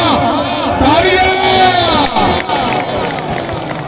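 A large crowd at a kabaddi-style match cheers and shouts loudly and continuously, a dense roar of voices with whoops over it.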